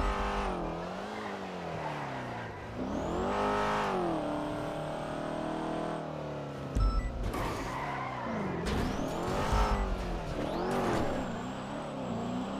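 A car driving in GTA roleplay on a NoPixel server, with its engine revving hard and rising and falling through gear changes. Repeated tire squeals and skids cut in as it corners, loud and continuous.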